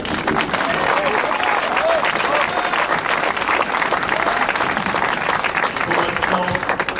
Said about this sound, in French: On aimerait qu'il se souvienne de vos applaudissements, monsieur Éric Orselin